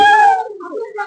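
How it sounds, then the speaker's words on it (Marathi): A peacock perched up high, with hens below, gives a loud, close, cat-like wailing call that fades into a lower, wavering tail, with no talk. "हे मोर आवाज करतोय."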